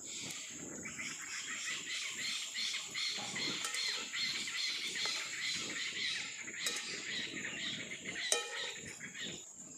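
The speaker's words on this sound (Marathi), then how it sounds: "संध्याकाळी आता आपापल्या घरट्यांमध्ये पक्षी यायला लागले तर झाडांवर" Many birds chirp and twitter together at dusk in village trees as they return to their nests, a steady, distant chorus with a continuous high insect-like trill running underneath.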